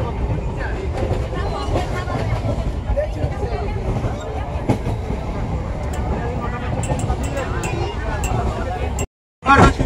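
Steady rumble and rattle inside a crowded passenger train bound for Tarkeshwar, with a continuous murmur of chatter from the packed carriage throughout, cut by a brief dropout near the end.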